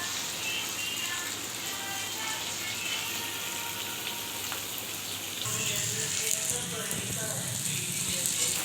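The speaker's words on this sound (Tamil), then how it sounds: "கருணக்கிழங்கு ஒரு பக்கம் ஃப்ரை ஆச்சு. இனி நம்ம திருப்பி போடணும்." Karunaikilangu (elephant foot yam) slices fry in a pan of oil with a steady, close sizzle that swells louder partway through, like pieces being turned.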